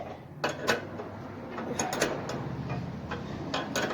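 Wrench tightening a bolt on John Deere steering, with 13 mm and 15 mm tools while a stud is held: a close series of short metallic ratcheting clicks and taps, bunched in bursts over a low background hum, with no talk.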